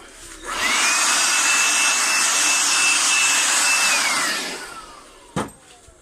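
A Makita 18 volt battery-powered vacuum cleaner runs for about four seconds, a loud, steady high whine that winds up and then down, followed by a sharp knock, close by during window repair cleanup.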